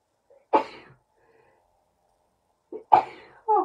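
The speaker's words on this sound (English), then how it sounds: "Excuse me, I'm going to sneeze." Two separate sneezes come from a woman with allergies in a quiet indoor room, each a sharp, loud burst with a short breathy intake before it. Another short vocal sound follows the second sneeze.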